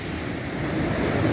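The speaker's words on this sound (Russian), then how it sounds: "Волна" Steady, dense roar of sea waves and wind on the Sea of Okhotsk, heard from a fishing boat, with no clear breaks or voices.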